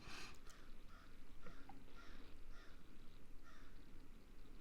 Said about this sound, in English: oh, those birds send me.